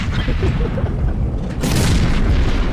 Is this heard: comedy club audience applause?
no